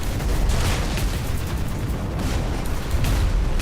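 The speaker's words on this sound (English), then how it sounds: "let's do a bombing run, definitely" A Dawn of War IV bombing run over a Space Marines versus Orks battlefield produces a continuous, loud rumbling roar of explosions. The dense, booming wash stays heavy for several seconds without a break.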